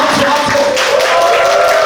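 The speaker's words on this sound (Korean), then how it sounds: "박수!" A shouted voice rises over steady applause from a crowd at a church Bible camp retreat, the clapping continuing as a dense wash throughout.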